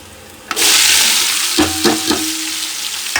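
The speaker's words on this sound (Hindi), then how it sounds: "ये तेल हो रहा है, अब इसमें डाल देते हैं खड़े मसाले।" Whole spices drop into hot oil and set off a sudden loud sizzle that holds steady, with a few sharp clinks of stirring on the pan as it continues.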